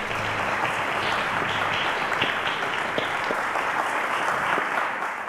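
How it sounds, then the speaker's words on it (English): Studio audience at the Cowbellpedia quiz show applauds two qualifying contestants, a continuous, fairly loud roar of clapping that holds evenly from start to finish. "A round of applause to both of them."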